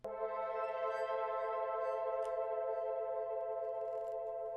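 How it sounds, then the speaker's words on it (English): Ambient isolation pad preset in the Serum synth plays a steady, sustained chord, soft and even throughout with a faint airy shimmer, alone with no talking. "The first sound that I'm using is this isolation pad."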